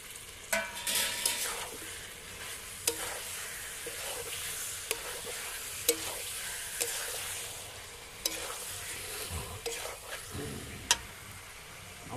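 Pudina chicken with added potatoes sizzles steadily in a pan while a spoon scrapes and knocks against the metal every second or two, the frying hiss quiet and continuous beneath the stirring.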